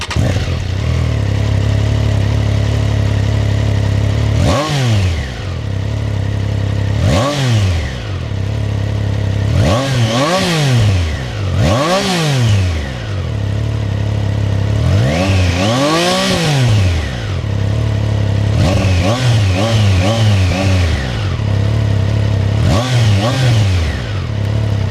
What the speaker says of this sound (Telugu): సో స్టాక్ ఎగ్జాస్ట్ ఈ బైక్లో ఎలా ఉంది అనేది మనం ఒకసారి చూద్దాం ఎలా ఉంటుందో.